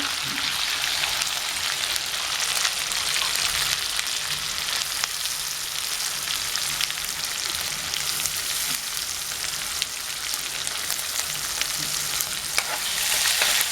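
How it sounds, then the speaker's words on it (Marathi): Tomatoes sizzle loudly as they hit hot oil tempered with curry leaves for a Maharashtrian phodani varan, with steady frying crackle and stirring throughout, no voices. "टॅमॅटो घातलं की चांगली त्याची पेस्ट होईपर्यंत हलवायचं"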